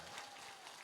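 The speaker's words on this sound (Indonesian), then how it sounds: "Tepuk tangan." Audience applause at a large open-house gathering at an Indonesian Islamic boarding school, held with Defence Minister Prabowo Subianto: a brief, dense wash of clapping from a crowd, heard from some distance.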